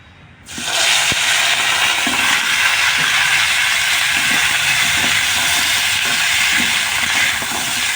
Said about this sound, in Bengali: তেলের মধ্যে আমি দিয়ে দেবো কাঁকড়াগুলো দিয়ে ভালো করে একটু ভেজে নেবো